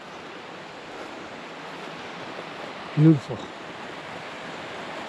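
A brook flows right beside an old, collapsing cabin in a remote spot, giving a steady, close wash of rushing water throughout, with one brief spoken word partway through.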